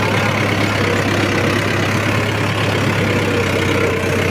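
A Mahindra tractor engine runs steadily at close range, a continuous low throbbing drone with constant loudness throughout and no voices.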